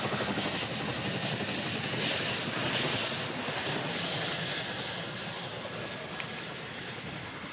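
A Chinook helicopter lands on a runway at the Farnborough airshow, giving off a loud, continuous rotor and engine roar with a dense rumbling wash that stays steady throughout.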